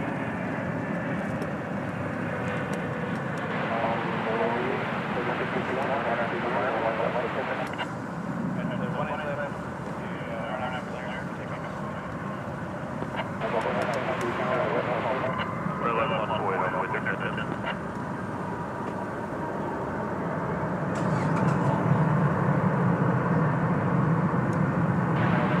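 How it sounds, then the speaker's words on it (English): Airplanes moving around DFW Airport at night make a steady, broad engine roar that swells near the end, with voices talking over it throughout. "that means we get a good look at or better look at the airplanes here at night."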